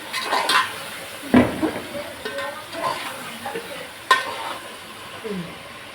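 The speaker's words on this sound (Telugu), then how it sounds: "ఒకసారి మనం అక్కడ కలిపేస్తున్నాను." Chicken curry seasoned with salt and kasuri methi being stirred in a pan, with a low sizzle and several clanks and scrapes of the spoon against the metal.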